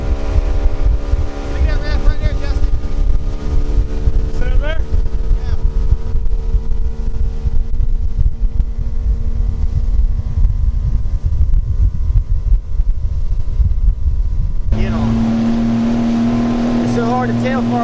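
A steady engine drone with rushing wind runs throughout, like a motorboat cruising over water; the tone shifts near the end as the motor changes pitch.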